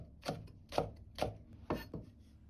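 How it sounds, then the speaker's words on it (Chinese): A knife chops scallions on a cutting board, five distinct evenly spaced strokes, close and quiet, with no talking. "大蔥少許切成蔥花"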